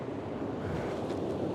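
The River Dane runs high after heavy rain, a dense, steady roar of rushing water close by, with some wind buffeting the microphone and no talking.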